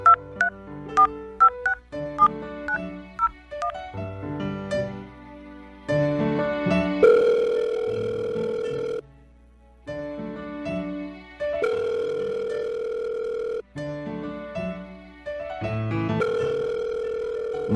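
A cellphone call being placed: a run of short keypad dial tones, then a repeating ringback tone that cycles on and off several times, loud and clear with no voices.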